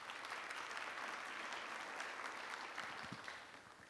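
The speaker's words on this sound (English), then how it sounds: "Round of applause." Audience at a video industry summit gives a round of applause, a dense steady wash of many hands clapping that fades slightly near the end, with no voices over it.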